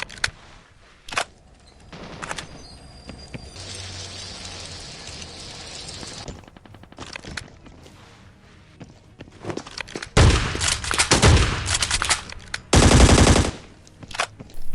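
Gunfire in the battle royale game Scarfall 2.0 on the Mumbai map: soft, distant rattling bursts early on, then loud, close bursts of rapid automatic fire near the end, with footsteps and thuds between them and no talking.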